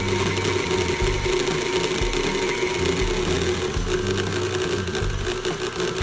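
An electric mixer beats cookie dough and butter mixture as eggs are added, a loud continuous motor whir with a rhythmic churning pulse, close and without talk.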